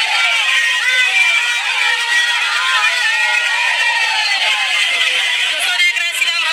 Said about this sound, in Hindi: मेले में काफी भीड़ उमड़ पड़ी है।